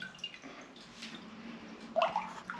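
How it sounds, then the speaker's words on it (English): Homemade elderflower champagne poured through a sieve lined with muslin, a soft trickling stream that swells into a brief louder splash near the end. "just pour that in and strain it through"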